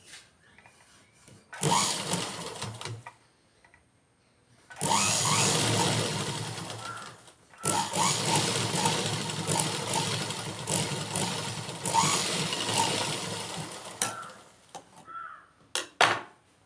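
A home sewing machine stitches a cloth pot holder made from old fabric, running in three long steady bursts with pauses and a few light clicks between them, close and fairly loud.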